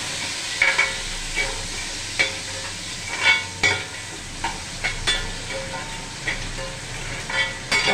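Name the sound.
sautéing onion, garlic and curry leaves in oil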